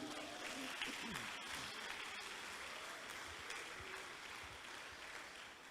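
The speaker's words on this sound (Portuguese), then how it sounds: "Dá um aplauso ao Senhor aí" Applause at a Brazilian carnival-themed gathering, a steady wash of many hands clapping that holds evenly throughout without pause.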